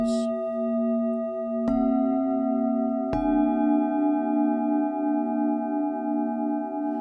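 Several antique metal singing bowls, a set of three medium bowls, ring together in a steady, shimmering drone, with two soft strikes adding fresh tones that hum and slowly waver.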